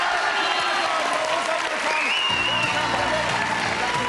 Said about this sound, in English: Give a nice round of applause